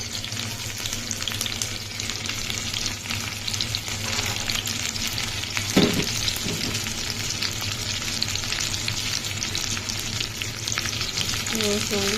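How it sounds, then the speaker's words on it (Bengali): Dried fish (shutki) with onions frying in a pan, a steady close sizzle throughout with a brief stirring scrape near the middle. "আমি শুটকিগুলো ভিতরে দিয়ে দিব"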